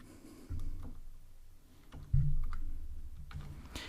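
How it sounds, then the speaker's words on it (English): A handful of scattered computer keyboard keystrokes click over a steady low hum, with short quiet gaps between them. "So I'm going to type here"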